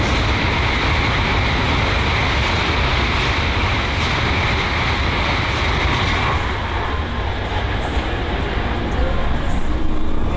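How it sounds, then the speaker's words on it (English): A streamlined, aerodynamic-nosed passenger train in Australia passing close by, a loud continuous rushing roar of wheels and air that holds steady throughout, easing slightly near the end. "Look at how aerodynamic the front of that train is."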